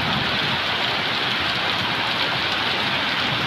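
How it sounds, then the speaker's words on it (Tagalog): Heavy rain pours steadily and loudly, a dense continuous hiss of drops drumming on surfaces close by, with no pauses and no voices. "grabe ang lakas ng ulan."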